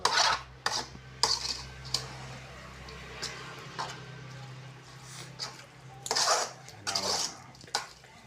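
A spoon scrapes and clinks against a pan while mushroom masala gravy is stirred, giving irregular close metallic taps and scrapes over a low steady hum.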